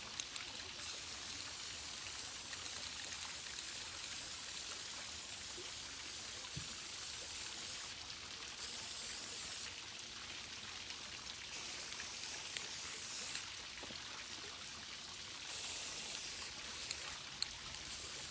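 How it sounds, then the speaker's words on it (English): Hissing bursts of a spray paint can coating a piece, several spurts of varying length separated by short pauses, fairly close and otherwise quiet. "And I'm gonna spray and cover the entire piece."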